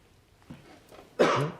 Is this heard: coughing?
yes